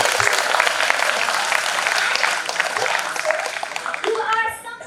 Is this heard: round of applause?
yes